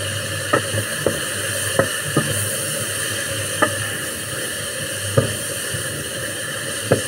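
Sesame oil sizzles steadily in a pan with a constant bright hiss, broken by a few sharp pops and scrapes of a wooden spoon, close up.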